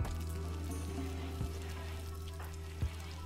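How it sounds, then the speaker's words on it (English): Food frying and sizzling on a stove in the RimWorld game, a steady close crackle with a few sharper pops over a low constant hum. "Got plenty of food being cooked."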